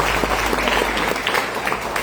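A church congregation applauds in a dense, continuous wash of clapping that fills the room, loud and sustained with a low hum underneath.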